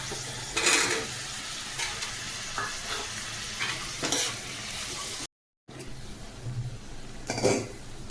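Tomato and amaranth stems going into a hot frying pan and being stirred, steady sizzling under repeated scraping strokes of a spoon against the pan, with a brief dropout partway through.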